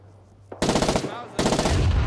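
Rapid automatic rifle fire in Rising Storm 2: Vietnam, two loud close bursts about a second apart after a brief quiet start, alone without talk.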